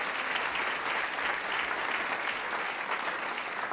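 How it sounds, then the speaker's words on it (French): A church audience applauds a singer in a dense, sustained wash of clapping that holds steady throughout, loud and continuous with no pauses and no voices over it. "Est-ce qu'on peut l'applaudir bien fort?"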